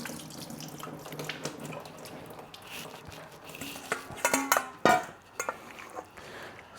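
Water running from a kitchen tap to rinse and strain soaked beef slices, a steady splashing stream with louder sloshing and clinks of a bowl or pot near the end.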